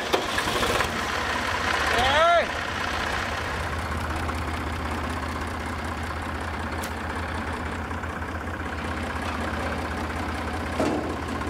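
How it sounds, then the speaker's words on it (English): A 40-year-old tractor on the Atlantic coast cranks briefly with a rising whine, then settles into a steady, loud, low diesel idle that carries on to the end. "So he's giving his old tractor a try. The last time it started was over a year ago."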